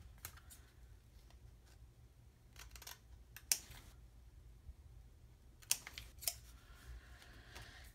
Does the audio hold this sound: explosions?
no